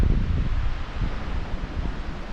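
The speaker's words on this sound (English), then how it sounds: "It's windy out here." Wind gusting outdoors on a clear day in Georgia beside an empty intermodal trailer, a steady broadband rush with no talk, moderately loud and unbroken for a couple of seconds.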